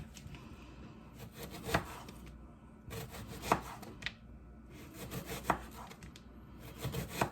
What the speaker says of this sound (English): Half peel and thinly slice onion.